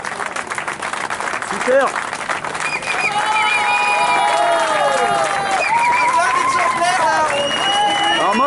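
A crowd claps and cheers loudly, with whistles and shouting voices rising over a sustained, rowdy ovation after a person briefly speaks at the start.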